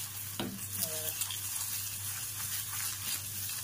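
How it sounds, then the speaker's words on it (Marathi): Eggs in masala for a dhaba-style Marathi egg curry being stirred in a pan, a steady close sizzle and frying hiss with light scraping of the spoon throughout, with no talking. "चांगली अंडी अशी मिक्स करून घ्यायची."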